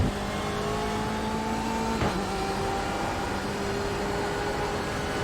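Race car engine under load on a track, a steady loud droning roar with a brief gear-change blip near the middle before the engine pulls on at high revs from the cockpit.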